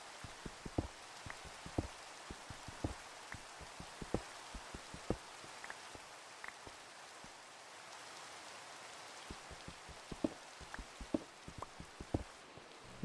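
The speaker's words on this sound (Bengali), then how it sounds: "মনে হচ্ছে বৃষ্টি নামবে।" Steady rain from a Minecraft game, a continuous soft hiss of rainfall with scattered sharper droplet taps spread irregularly throughout, moderately quiet and without any talking.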